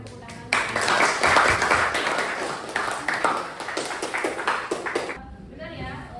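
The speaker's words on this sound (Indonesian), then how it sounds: "Silakan berikan tepuk tangan." Audience applause follows a student's answer during a teaching session at a polytechnic classroom, a dense burst of clapping lasting about five seconds under and around speech, then fading.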